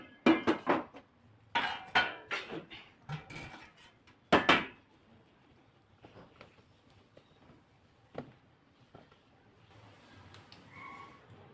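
Plates and dishes clatter and clink close by in a kitchen while getting ready to deep fry, with a burst of sharp knocks early, then sparser scattered clinks toward the end.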